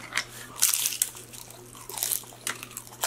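Crunchy nachos being bitten and chewed close to the mic during a Mexican food mukbang, giving repeated crisp crunches in irregular bursts over a low steady hum, with no talking.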